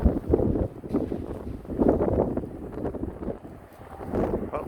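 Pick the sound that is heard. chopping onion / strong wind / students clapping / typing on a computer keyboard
strong wind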